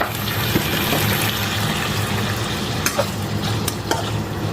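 Beef steak frying in a little oil in a pan, a continuous close sizzle with occasional stirring scrapes and pops, no talking.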